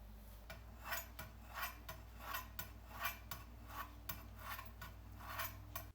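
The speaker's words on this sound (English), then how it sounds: "let's cut our avocado into really thin slices." Knife slicing avocado into thin slices for a sushi dragon roll, a faint, regular series of soft cuts against a board, roughly ten strokes over a steady low background hum.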